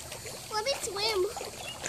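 A child swims in a backyard pool, with light water splashing under a voice talking close by.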